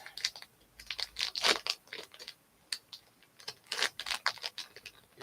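A metal item is pulled out of a plastic bag, making close, irregular crinkling and rustling bursts of plastic that come and go in short clusters, with no one speaking.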